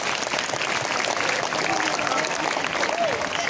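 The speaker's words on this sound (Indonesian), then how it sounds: "Beri tepuk tangan untuk Agustin." A school crowd of students claps in steady, dense applause filling the room, with voices mixed in beneath the clapping.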